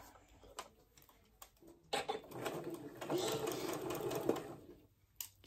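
A home sewing machine stitches fabric in a quick mechanical whir, a few short bursts then a longer continuous run, close and moderately loud with brief pauses between.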